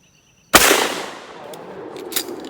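A single loud 12 gauge shotgun blast at a thrown clay target breaks a moment of quiet, a sharp close report followed by a long decaying rumble outdoors, with faint clatter near the end.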